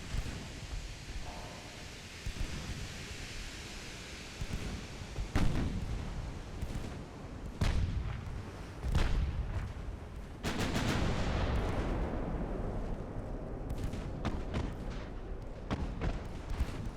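Naval gunfire from warships in the game Ultimate Admiral: Dreadnoughts, a run of booming cannon shots and rumbling impacts over a steady battle din, some blasts louder and closer than others.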